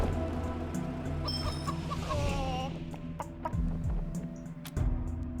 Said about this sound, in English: Let's charm the chicken.